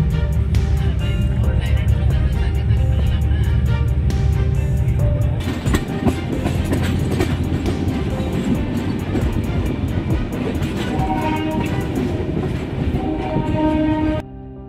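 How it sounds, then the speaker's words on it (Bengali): The 22862 Ispat Express rolls into Rourkela Junction with a loud, steady rumble and rhythmic wheel clatter. Long horn blasts sound over the running train, which quiets abruptly at the end. "ট্রেন ঢুকছে রাউরকেল্লা জংশন।"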